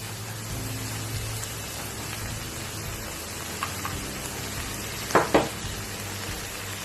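Ground pork bulgogi with green beans sizzles steadily in a pan, a continuous frying hiss with a couple of sharper crackles and clinks near the end, no talking.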